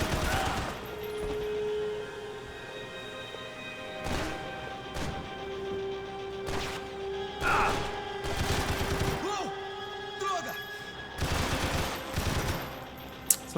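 Gunfire in the video game Max Payne 3: repeated sharp shots and bursts scattered over a steady background, some in quick clusters, with a final loud crack near the end.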